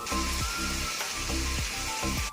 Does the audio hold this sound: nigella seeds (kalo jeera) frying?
yes